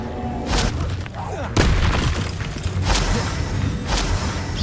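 Bombarda blasting spell in Hogwarts Legacy, heard as several loud, sharp booms and crackling impacts in quick succession amid dense, noisy game combat sounds.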